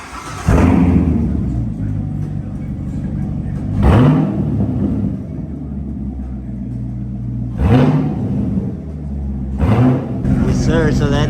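C7 Corvette with its catalytic converters cut out, engine idling with a deep rumble and sharp loud revs at regular intervals, heard close up while people talk nearby.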